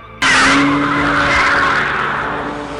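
A BMW 1 Series M Coupe drifts with a loud, sustained tire skid that starts abruptly and holds steady, engine droning underneath as the squeal slowly fades.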